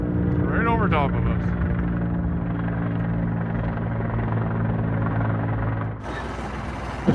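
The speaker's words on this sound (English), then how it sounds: "you see the choppers coming back" A helicopter passes low right overhead above a river, its thudding rotor drone loud and steady throughout, with a jet-boat engine sound cutting in near the end.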